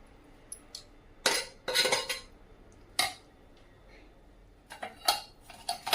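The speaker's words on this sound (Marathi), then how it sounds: "मस्तपैकी आता चाळणीमध्ये गाळून घेऊया" A metal spoon scrapes and clinks against a metal sieve while cooked chana dal puran is pressed through, giving several short bright scraping bursts between pauses, close up, with no talk.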